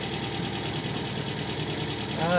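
A 1968 Porsche 912 engine idles evenly at about 1100 rpm at a constant low rumble, close by, with no breaks or revving throughout.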